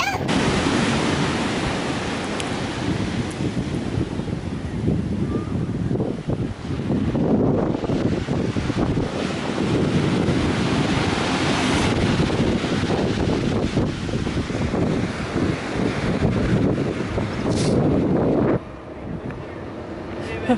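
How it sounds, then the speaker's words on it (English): Ocean surf breaking along the Ring of Kerry coast in Ireland, a steady broadband wash of waves with wind buffeting the microphone throughout, continuous and fairly loud. "Just the sound of the waves is like..."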